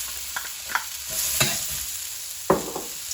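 Onions stir-fried in a wok hiss with a steady broadband sizzle, broken by a few sharp scrapes and clacks from the stirring, without any talking.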